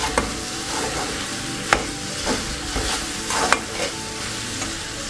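Coriander and vegetables sauté in a pan for a pounded roti chutney, giving a steady close sizzle with repeated scraping strokes and light clinks as the spoon stirs.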